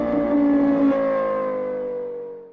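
A 2023 Infiniti QX50 luxury compact crossover with a 2-liter VC turbo engine pulls away, its engine note rising briefly then settling into a smooth, fading drone, close and loud with no talking.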